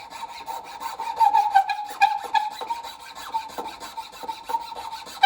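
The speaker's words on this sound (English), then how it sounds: "I'm going to go to a finer file" A finer file rasps back and forth across a wooden detail in quick, even strokes, close and clear with no voices.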